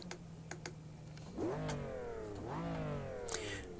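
A car engine in the racing game Automobilista 2 revs up twice, its pitch sweeping upward each time over a steady low hum, loud and close with a brief high click near the end.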